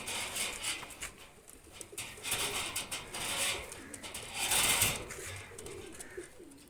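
Pakistani high-flyer pigeons coo softly nearby in repeated throaty calls, with light rustling and patter around them.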